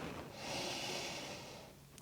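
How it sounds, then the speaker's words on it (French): A long, deep inhalation during a dynamic vinyasa yoga session, a steady breathy rush that swells and fades over about two seconds, close and alone with no talking. "Dernière inspire, grande inspire."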